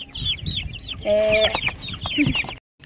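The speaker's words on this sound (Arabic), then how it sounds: "اشتريت فراخ بلدي، فراخ بلدي جميله كده زي ما انتم شايفين" Egyptian baladi country chickens cluck and chatter close by, with a cluster of repeated clucks and a louder squawking call in the middle before the sound cuts off abruptly.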